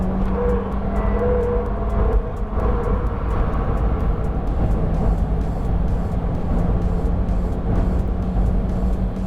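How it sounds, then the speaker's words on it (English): 2019 VW Golf GTI Rabbit Edition held at full throttle on a cold track, a steady, loud engine roar with wind noise that keeps on without a break from start to finish. "I'm just flat on the gas all the way through onto the straightaway"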